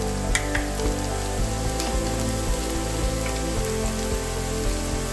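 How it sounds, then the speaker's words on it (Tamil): Curry masala and ground pepper sizzle steadily in hot oil while being sautéed for mutton chukka, a dense, close crackling hiss with scattered pops and faint stirring scrapes throughout. "கொஞ்சம் கறி மசாலா கொஞ்சம் எண்ணெயில் போட்டுக்குவோம் எண்ணெயில் போட்டு கொஞ்சம் வதக்கிக்குவோம்"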